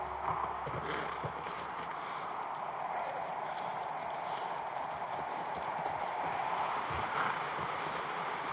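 Steady clip-clop of horse hooves trotting along in the video game The Last of Us Part 1, a continuous even rhythm with soft ambient wind beneath, no talking.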